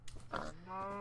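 A pig in the Minecraft video game gives a few quick, soft grunts, followed by a brief tonal squeal that holds steady at the end, all faint and heard alone.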